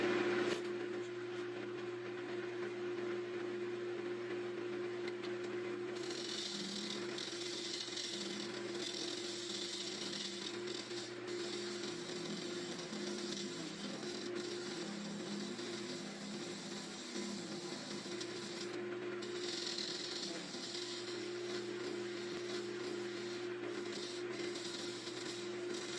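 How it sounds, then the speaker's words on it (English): A steady, low whirring hum of a spinning lathe with a soft, rasping abrasive rub against wood swelling in and out over it. "Sanding."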